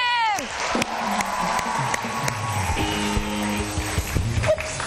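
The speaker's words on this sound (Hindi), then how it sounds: "आप सबकी भरपूर तालियों में अहमद जाज़िम।" Studio audience at a Pakistani singing competition round applauding and cheering as a contestant is introduced, a loud crowd roar with claps under a singing or calling voice.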